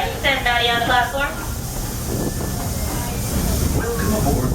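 The Walt Disney World Railroad steam train at the Magic Kingdom gives a steady rumble and hiss throughout, with a voice speaking briefly near the start.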